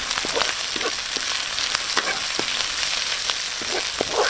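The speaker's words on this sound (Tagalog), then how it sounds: "nagisa na natin lahat yung luya, bawang at saka sibuyas" Ginger, garlic and onion sauté in a hot oiled pan, a loud continuous sizzle close by with a few light clinks of a spatula stirring, and no voices.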